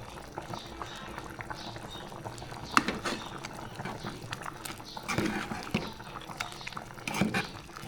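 A pot of sinigang soup with pork ribs bubbling on the stove, soft continuous simmering and occasional louder bubbles and splashes, fairly quiet throughout.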